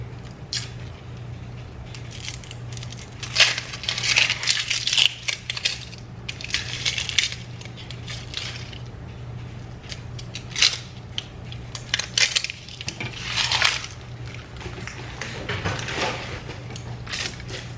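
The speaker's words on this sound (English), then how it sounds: "I'm just chopping up an onion. It's a fairly large white onion" A knife chops a large white onion on a board in bursts of crisp, crunchy cuts separated by short pauses, close and fairly loud over a low steady hum, with no talking.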